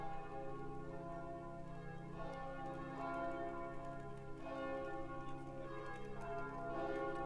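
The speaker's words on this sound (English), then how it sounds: "the gong from the church" A church bell rings in Reims, France, with slow, evenly spaced strokes every couple of seconds whose deep tones hum and sustain between hits, heard from a moderate distance.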